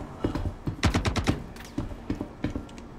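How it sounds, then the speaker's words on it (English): Gunfire in Star Citizen during a bunker fight: rapid bursts of sharp close shots, a dense volley in the middle, then scattered single cracks. "Bullets being fired."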